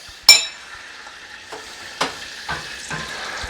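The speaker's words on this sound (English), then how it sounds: "I've got some butter bubbling away." Butter bubbling and sizzling in a pan for a frittata, with a sharp clink near the start and soft crackling bursts and gentle stirring sounds following at close range, no talking.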